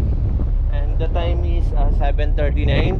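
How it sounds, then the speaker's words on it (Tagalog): Strong wind on the upper deck of a passenger ship roars and buffets the microphone in a loud, constant low rumble, with someone talking over it throughout. "medyo mahangin dito sa taas ngayon"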